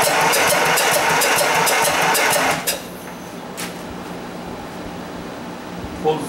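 An Ariens Emperor V-twin engine with no mufflers fitted runs loud and rough for about two and a half seconds, then cuts out, leaving a quiet background with a few faint knocks.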